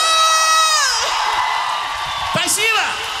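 A live concert audience in Moscow cheers and whoops loudly, with shouts rising over a held synth note that fades out midway.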